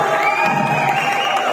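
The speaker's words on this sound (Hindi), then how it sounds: "उनके लिए एक बार जोरदार तालियां बजा दीजिए।" Loud crowd cheering and shouting with whoops at a Delhi Rise Together event, a sustained dense roar lasting the whole moment with no clear talk above it.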